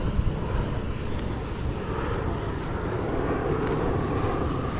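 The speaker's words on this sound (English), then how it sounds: "Kenya Airways is making a turn right there at the skies of Kisumu, headed towards Kisumu International Airport." A Kenya Airways airliner turning in the sky over Kisumu produces a faint, steady, distant roar that holds evenly throughout with a breathy wash of wind.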